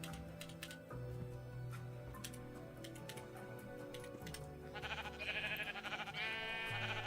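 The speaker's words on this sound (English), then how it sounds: "Well, I killed a sheep." Sheep bleating in Minecraft Bedrock Edition as it is killed, a few short wavering bleats near the end over steady game music and keyboard typing.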